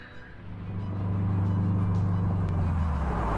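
A car speeds up on a mountain road high above a steep drop, its engine drone rising and then holding a loud, steady hum close to the microphone.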